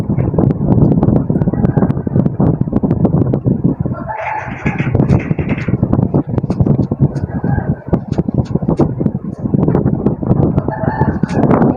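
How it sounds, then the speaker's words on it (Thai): Chickens cluck and a rooster crows repeatedly over a busy, dense mix of game sound effects, with squawking bursts rising and falling throughout. "อุ้ยเสียงไก่กันเนาะ"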